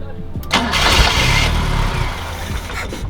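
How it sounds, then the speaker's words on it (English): A BMW 2002 with a freshly jetted Weber 32/36 carburetor cranks and briefly catches, its engine roaring up loudly for about a second before settling and sputtering, close to the microphone. "This is the first start after adjusting the carb"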